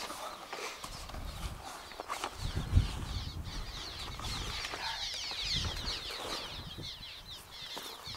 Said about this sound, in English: Birds are really going nuts.